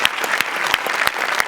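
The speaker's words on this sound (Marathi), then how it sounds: "जोरदार टाळ्या दोघांसाठी" Audience applause for two performers on a Marathi comedy stage show, a dense steady clatter of many hands with a few sharper claps popping out, loud and continuous throughout.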